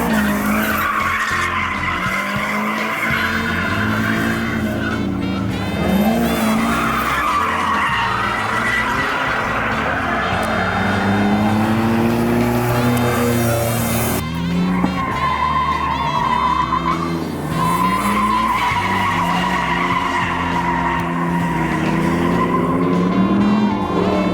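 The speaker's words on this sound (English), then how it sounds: "Tiffany, she's driving in Sparkle Motion, which is the all-ladies drift event that they're having here today" Drift cars at an all-ladies drift day, tires squealing and engines wailing in long sustained sweeps that rise and fall almost continuously, loud and fairly close.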